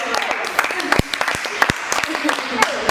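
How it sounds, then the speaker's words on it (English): Audience applause at an International Women's Day event, scattered, uneven claps with some louder sharp hits, mixed with voices and chatter throughout. "Round of applause!"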